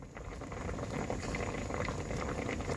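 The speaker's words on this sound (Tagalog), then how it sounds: "kumukulo na po siya" Vinegar boiling in a pot on low fire while cooking fish, a steady close bubbling and seething with dense fine pops, continuous and even for a few seconds.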